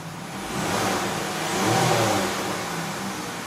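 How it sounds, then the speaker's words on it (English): A Dodge Journey's engine, running hot while the radiator fan stays off, revs in two gentle swells. The engine sounds moderately close and steady, with no talking. "I'm revving it up a little bit more."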